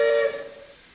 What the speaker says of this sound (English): he let out his whistle, and soon the convoy made their way to the fire.